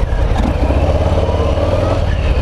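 A 2020 Harley-Davidson Low Rider S motorcycle engine revs loud and close, a rough throaty drone that pulses steadily for a couple of seconds.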